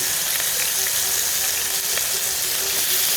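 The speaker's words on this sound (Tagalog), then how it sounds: "Yan, yung ating piniprito." Pork sticks sizzle steadily in hot frying oil, a dense, continuous crackle that stays loud and even throughout with no talking.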